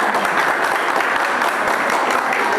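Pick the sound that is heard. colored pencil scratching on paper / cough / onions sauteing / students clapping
students clapping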